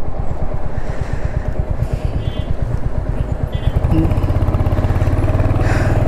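Motorcycle on a short test ride, its engine loud and close with a steady pulsing chug that picks up in pitch partway through as the bike accelerates.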